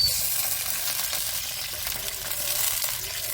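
Sauce hitting chicken in a hot pan with sesame seeds gives a steady, close sizzle and frying hiss throughout, with faint stirring and no talking.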